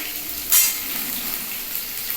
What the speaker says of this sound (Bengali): এখানে আমি বড়িটাকে লাল লাল করে ভাজতে দিয়েছি